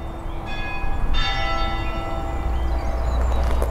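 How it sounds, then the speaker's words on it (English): A church bell at Witley Court rings out the quarter hour, a few slow, resonant strikes with long ringing decay over a low outdoor hum. "That's a very eerie bell"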